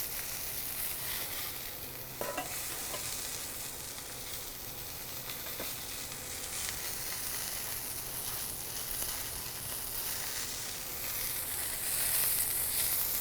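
Food sautés in a hot pan with a small amount of fat, giving a steady, close sizzle and hiss that continues throughout with occasional faint stirring sounds.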